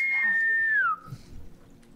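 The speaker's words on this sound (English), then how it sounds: "I think that's how the whistling goes." An enemy's signal whistle in The Last of Us Part 2 game: a single clear, fairly loud tone that holds level and then slides downward, followed by faint scuffling.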